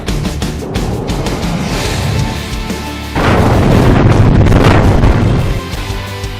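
Repeated booming blasts from BrahMos missile strikes in news footage of Operation Sindoor, loud and broadband, with a heavier sustained roar in the second half that fades near the end.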